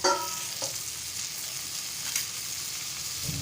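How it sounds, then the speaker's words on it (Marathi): Toki fish frying in oil, Malvani style, with a steady close crackling sizzle and a few sharp pops as more oil goes in at the edge. "हे बघा सगळे आता टोकीची मच्छी आता फ्राय करायला ठेवलेली आहे आता बाजूतून आपण असं तेल सोडूया"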